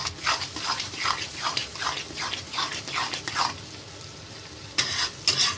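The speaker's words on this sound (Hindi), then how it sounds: "हल्का सा चम्मच के साथ इसको थोड़ा सा ब्रेन को ऐसे तोड़ते जाएंगे" Spicy beef brain masala fries in a pan while a spoon breaks it up with rhythmic scraping strokes over a steady sizzle. A pause follows, then a few more stirs.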